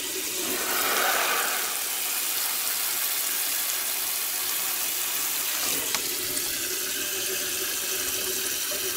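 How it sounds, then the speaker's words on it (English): Tap water runs steadily into a container filled up to a fill line for a flavor packet. The rush is loud and close, unbroken throughout, with a small clunk partway through and no talking. "Fill it up to the line with water."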